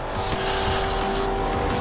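A modified race car with a swapped engine roars steadily in Forza Horizon 2, a loud sustained engine drone with tire squeal, close and continuous with no talk.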